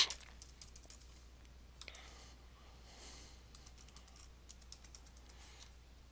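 A username is typed on a computer keyboard as a quiet run of uneven key clicks, with bursts of several rapid taps separated by short pauses.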